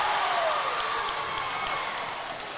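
A basketball crowd at an LCA district championship game applauds and cheers good defense and a steal, a loud sustained wash of clapping and voices that slowly eases off.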